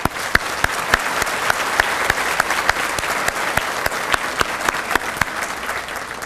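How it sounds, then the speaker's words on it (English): Steady applause from an audience at a school district's State of the District 2014 event in Arlington, dense continuous clapping with sharp individual claps standing out, loud and sustained throughout. "let's give them a round of applause."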